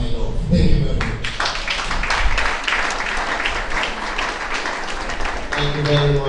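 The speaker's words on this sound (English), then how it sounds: "Please keep clapping for Comrade Ibom." Conference audience applauding at an international gathering, a steady broadband wash of many hands clapping that fills the whole stretch, with a voice speaking briefly over it at the start and again near the end.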